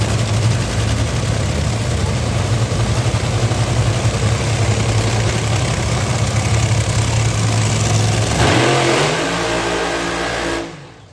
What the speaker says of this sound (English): It is the Monster Energy Top Fuel Dragster of Brittany Force.